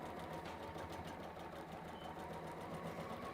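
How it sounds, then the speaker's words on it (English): A sewing machine stitches fabric in a continuous low mechanical whir with a fast, even rhythm, quiet and close, and no talking. "at the moment I'm stitching around it and stitching it in place."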